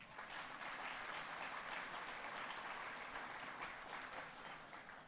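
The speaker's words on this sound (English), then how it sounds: "Can I have a round of applause?" A crowd of honorees, family and friends applauds at the 10th annual Texas Bankers Hall of Fame ceremony at a university, an even wash of many hands clapping, heard softly and somewhat distant throughout.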